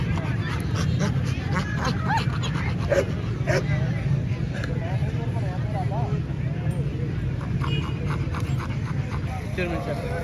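A German Shepherd at a dog show in Narowal barks and yips amid a constant crowd hubbub, with people talking nearby throughout.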